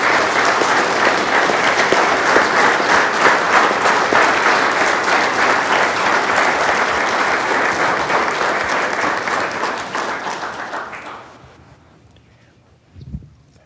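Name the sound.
audience applause for Army veterans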